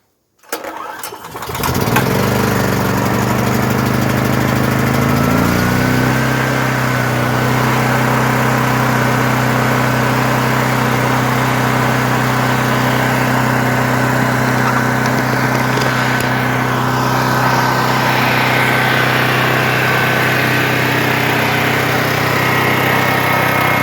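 A Duramax 8500 dual fuel portable generator cranks and catches, then its engine runs at a loud, steady drone with a constant hum, close by and unbroken for over twenty seconds with no talking.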